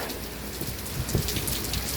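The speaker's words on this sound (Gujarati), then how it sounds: "લઈ લે વરસાદ ચાલુ થયો ભાઈ." Steady rain falls onto surfaces outdoors in a continuous dense patter, with scattered louder drops breaking through the hiss. No voices.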